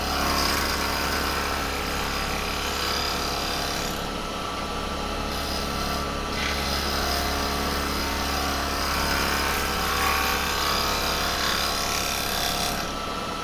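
Woodturning lathe cutting with a gouge riding on its bevel, a steady loud hum with continuous rough scraping and hiss that shifts slightly in tone as the cut continues.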